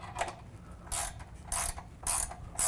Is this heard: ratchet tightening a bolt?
yes